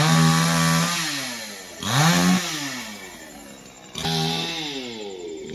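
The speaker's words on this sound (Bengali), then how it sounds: "এখন আমরা মেশিন দিয়ে গাছ কাটছি।" A chainsaw cuts down a tree on a building site, loud and close, its engine revving and bogging down repeatedly as it bites into the wood, with pitch swinging up and down in waves.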